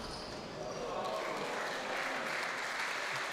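Crowd applause at a squash match in the WSF Masters Championships 2022, a steady broadband clapping wash sustained at even loudness throughout, with commentary voices faintly beneath.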